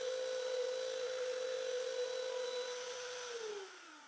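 A router runs at a steady high-pitched whine as it cuts a slot through the front face of a wooden jig, then spins down near the end.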